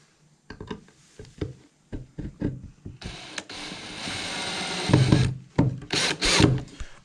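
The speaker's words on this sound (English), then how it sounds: "I'll flick back over to the drill just for speed" A power drill driving screws into wood while building a bird box whirs in several short bursts, then runs in a long steady stretch with clattering, close by and loud, with no talking.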